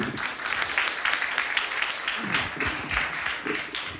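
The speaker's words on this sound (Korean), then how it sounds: "자, 교감 선생님 박수로 맞이해 주시기 바랍니다" A school audience at a student startup club business plan presentation claps to welcome the vice principal, a close, steady roar of many hands continuing throughout.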